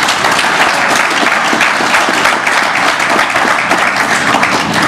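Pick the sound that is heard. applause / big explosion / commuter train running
applause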